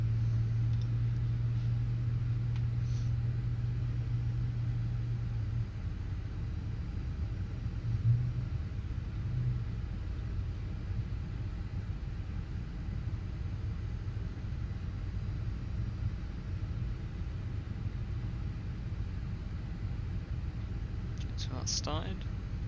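A simulated Flight Factor A350 engine starts up in X-Plane 11, a faint, low, steady rumble with a droning hum that fades after the first few seconds, heard from inside the cockpit.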